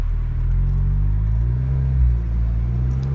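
A car with a PCV retrofit and Venturi setup accelerates from a stop, giving a steady, loud low engine rumble that swells slightly midway.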